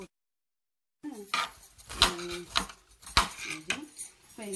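A knife cuts purple cauliflower on a board in a home kitchen, giving several sharp chopping knocks and clinks after a second of silence, with a voice talking between the cuts.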